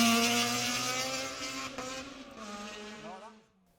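Rally car engine revving hard then easing off on a gravel forest stage in the Speyside Stages modified and pro classes, a loud rising-and-falling pass that fades away at the end.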